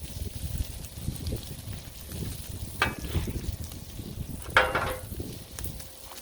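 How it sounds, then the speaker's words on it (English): Bacon sizzles on an outdoor griddle with a steady, soft frying hiss beneath rumbling wind. Two brief, sharper crackles stand out. "So, there we go, bacon on the griddle."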